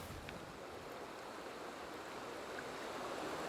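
Steady broadband rush of the Kenai River flowing in Alaska, a continuous wash of moving water with no voices, constant and fairly close throughout.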